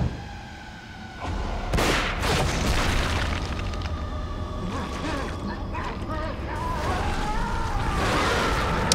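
Fireworks burst in the video game The Evil Within, a loud boom followed by sustained crackling and rumbling explosions that fill the scene.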